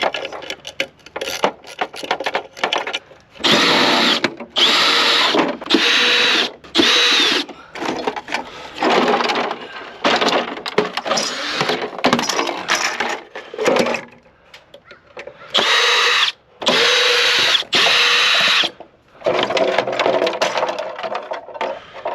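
Power drill fitted with a 10 mm socket backing out bolts while scrapping air-conditioning parts, running in loud repeated bursts of whirring separated by short pauses, close up with no talk.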